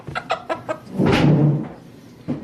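A hen clucks in short, close repeated calls, followed by a louder, longer drawn-out squawk, then one more brief cluck at the end. She is a recovering bird being handled near the coop.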